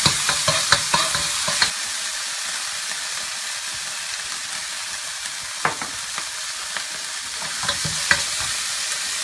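Scallion, ginger and garlic hit a hot wok with bean paste, giving a loud, steady sizzling hiss broken by sharp clanks of the spatula stirring and tossing at irregular intervals.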